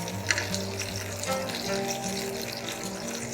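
Curry leaves drop into hot coconut oil, a steady close crackling sizzle with bright spitting pops across the whole stretch, ringing kitchen tones humming faintly underneath, no voices.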